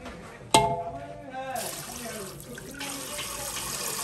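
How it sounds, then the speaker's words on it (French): Water is added to a pot of goat curry: a sharp knock, then a steady rush of running or pouring water that carries on to the end, with faint voices in the background. "Mettre un petit peu de l'eau."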